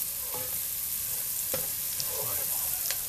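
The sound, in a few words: annatto powder and onion frying in pan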